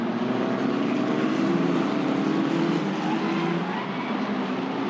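Formula 4 race cars at Sepang circuit in the 2023 F4 race roar past in a dense pack, a loud continuous engine drone with shifting pitch holding steady throughout.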